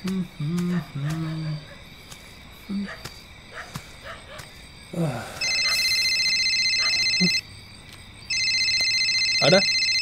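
A telephone rings twice in an indoor scene from a Tamil horror thriller, each ring a steady electronic trill lasting about two seconds, following scattered low voices and night insect sounds.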